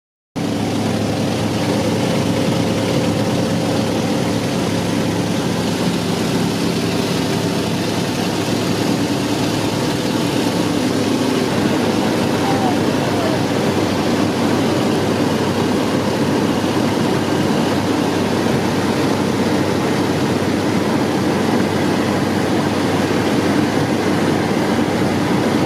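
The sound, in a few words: de Havilland Otter propeller plane engine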